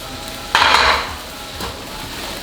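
Ginger and garlic are stirred in a hot pan. A single close scrape and sizzle swells for about half a second, then a quieter background hiss continues with a light clink at the end.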